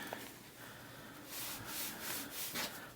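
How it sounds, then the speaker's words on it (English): A cloth is rubbed across a Dell Optiplex 7020 computer case after a spritz of Simple Green cleaner. Soft, close scrubbing swishes come in several quick strokes with no talking. "We're going to spritz some simple green on here. And wipe it down."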